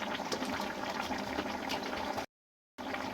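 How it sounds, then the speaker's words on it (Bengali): Pumpkin-leaf chorchori with mustard oil, sugar and green chilies bubbles and simmers in a pan, a steady close gurgling broken by a short silent gap. "সব কিছু দিয়ে নিয়ে ভালো করে ফুটিয়ে নেব।"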